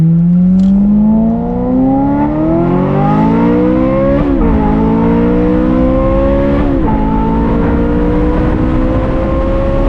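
A Ferrari 355 F1 engine revs high and climbs steadily through the gears, loud and close, its harmonic whine rising with a brief dip at each shift.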